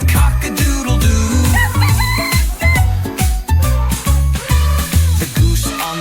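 A rooster crows cock-a-doodle-doo over a loud, bouncy children's farm song with a steady thumping beat, the crow blending into the music rather than standing alone.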